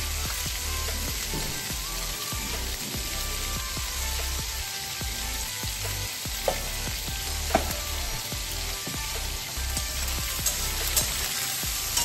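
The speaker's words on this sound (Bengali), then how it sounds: "ভাজার সময় অল্প নুন দিয়ে দিচ্ছি" Vegetables fry in a pan with a pinch of salt added, giving a steady dense sizzle that runs the whole time, with a few faint scrapes and clinks over it.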